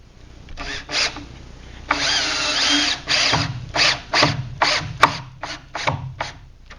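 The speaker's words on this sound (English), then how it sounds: "Now I go ahead and continue to drill." A power drill drives screws while a basement door is installed, running in repeated bursts of varying length with short pauses between, close and loud with no talking.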